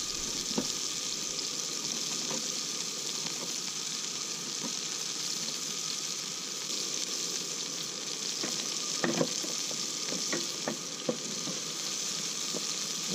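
Peppers sizzle and fry steadily in hot oil over a camp cooking setup, a continuous crackling hiss with scattered sharper pops and spatters throughout, fairly close and alone without talk.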